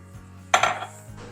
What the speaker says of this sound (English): And then we're gonna stir it together and get all that cheese nice and melted